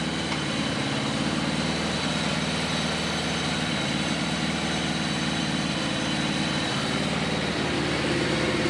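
A Suzuki GS850 motorcycle engine, leaking oil from a gasket onto the exhaust after its piston rings resealed, idles with a steady rhythmic low chug and mechanical clatter, close and constant with no voices.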